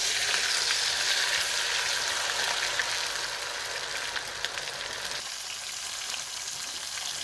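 Potato wedges fry in hot oil, a dense continuous sizzle and crackle with occasional sharper pops, steady and close throughout.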